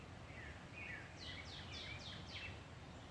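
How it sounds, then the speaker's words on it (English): Birds sing outdoors in a faint series of short, rising chirps that repeat in quick succession over a steady background hiss, with no talk. "You hear our birds, our messengers singing to us?"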